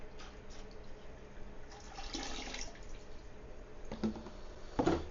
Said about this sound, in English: You're adding little bits of water at a time to get them acclimated to the fish tank.